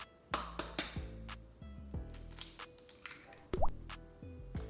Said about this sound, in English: to get 1 egg and crack it in.